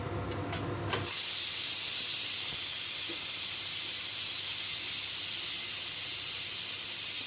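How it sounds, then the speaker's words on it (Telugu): Oil tempering (talimpu) in a small pan for a chana dal and spinach curry bursts into a loud, steady sizzling hiss after a second of quieter clatter and holds unbroken to the end. "మనం అప్పటి వరకు తాలింపు చేసుకుందామండి. చిన్న ప్యాన్లో కొంచెం ఆయిల్ వేసుకున్నాము."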